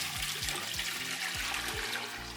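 Hot water pours steadily from a tap into a pot, a continuous broad rush with a low gurgling pulse beneath as the vessel fills, close and fairly loud with no voices.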